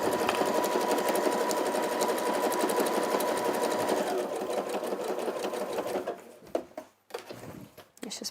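A sewing machine hums and chatters at a steady pace as it stitches binding around a curve, then stops, leaving a few soft handling clunks and fabric shifts.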